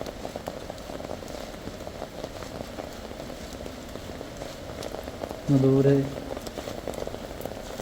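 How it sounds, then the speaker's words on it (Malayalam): The Akashaganga waterfall in the forested Kolli Hills of Tamil Nadu roars from a distance as a constant broad rushing wash. A person talks over it, and a short tonal sound rises near the end. "ആകാശഗംഗയിൽ വെള്ളച്ചാട്ടത്തിൻ്റെ ഹുങ്കാര ശബ്ദം കേൾക്കുന്നുണ്ട്"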